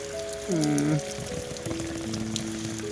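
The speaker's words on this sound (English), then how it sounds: "hopefully this rain isn't going to stay on all night" Steady rain pattering in the background, with a brief tonal whine rising and falling near the start over the continuous wash of drops.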